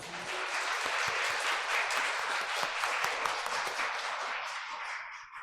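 A church congregation at a Sunday morning service claps steadily together, a soft, even patter of many hands at moderate distance that gradually thins and fades toward the end.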